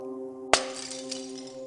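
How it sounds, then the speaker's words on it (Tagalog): A glass jar drops and shatters on the floor in one sharp, sudden crash followed by a short scatter of tinkling fragments, set against a low steady musical drone. "Nalaglag ko ang garapon. Pumutok ito sa sahig."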